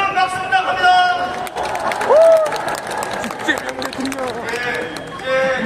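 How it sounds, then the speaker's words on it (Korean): Applause from a crowd at an outdoor Korean rally-style event rises in waves beneath an announcer's amplified voice, with cheering babble and scattered claps. "다시 한번 우리 샤오팅 코리아에게 큰 박수 부탁합니다."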